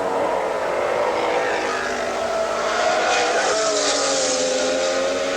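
Porsche race car engines at the 1982 IMSA Camel GT race at Lime Rock, a loud continuous high-pitched roar that rises and sweeps in pitch as the cars pass, with faint commentary underneath.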